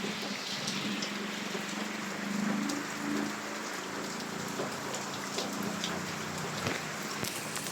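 Heavy rain pours during a shearline storm in Camarines Sur, a dense steady hiss of drops on surfaces mixed with rushing floodwater, continuous and close with no voices.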